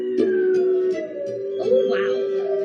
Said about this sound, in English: Don't like all the barking.